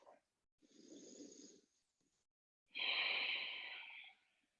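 Two long, audible breaths during a yoga flow, a breathy inhale followed after a pause by a stronger, hissing exhale, close to the microphone with silence between.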